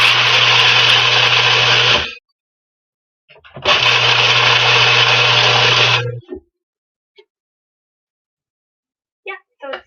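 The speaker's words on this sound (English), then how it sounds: "a food processor is going to be a bit loud" A food processor pulses apple-rhubarb crumble ingredients in two loud, close whirring bursts of about two seconds each, separated by a short pause, followed by near silence with a few small clicks and knocks.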